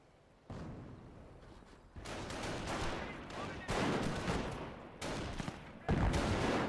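Rifle grenades and gunfire from the video game Company of Heroes arrive as a series of loud, overlapping blasts and volleys, each burst starting abruptly and building into heavier barrages.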